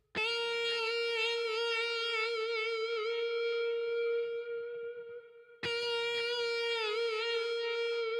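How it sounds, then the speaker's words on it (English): A sustained synthesized tone rings out with a long echoing tail that fades, then cuts back in abruptly; heavy reverb washes over everything, no voices. "we got some reverb in this bitch too"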